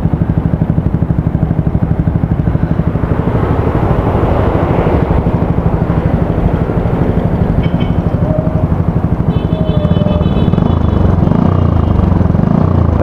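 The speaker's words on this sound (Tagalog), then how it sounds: "So yan yung tunog niya kapag may dalawang silencer na nakakabit." Motorcycle with two silencers fitted on an aftermarket SC Project exhaust on a Vegaforce FI, revved repeatedly up close, a steady muffled engine drone swelling louder in bursts toward the end, fairly subdued rather than loud.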